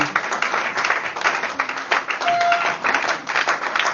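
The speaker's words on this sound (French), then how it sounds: "Acclamons Jésus." A church congregation at a Sunday worship service applauds to acclaim Jesus, with dense, continuous clapping across the whole clip and faint voices mixed in beneath.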